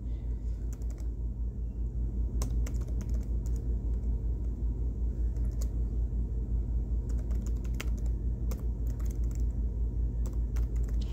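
Fingers tap out a student login on a computer keyboard in quick irregular bursts of close, crisp keystrokes over a steady low background hum, with no one speaking.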